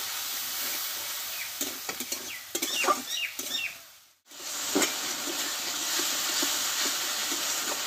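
Spice paste for a katla fish head and cabbage curry sizzles steadily in a pan with a splash of water. Close scraping stirs break through the hiss, which dips briefly before resuming.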